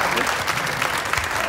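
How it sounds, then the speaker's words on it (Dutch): A short burst of rousing applause from a crowd of Amsterdam schoolchildren, the clapping dense and fairly loud with no break across the moment. "En geef haar nog een daverend applaus"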